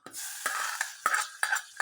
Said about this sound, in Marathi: लसूण घेऊया तळून